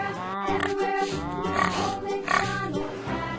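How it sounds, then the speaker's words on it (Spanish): A farm pig oinks and grunts in a short run of rough, nasal calls, close and fairly loud, standing alone without talk. "Chancho."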